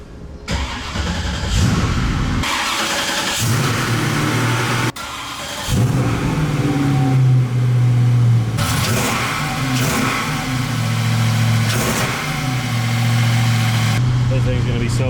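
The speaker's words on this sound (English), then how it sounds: "I just wanted to give it a nice start up so everybody can see it running." A twin-turbo LSX V8 in a 1970 Chevelle cranks and fires, settling into a loud, close idle with repeated revs rising and falling, briefly cutting out and restarting.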